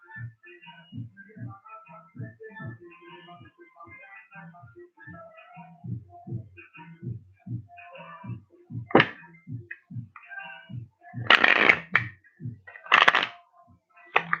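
Tarot cards are shuffled by hand in a rapid rhythmic series of soft riffles and taps. Louder, denser slaps come near the end as a clarification card is drawn.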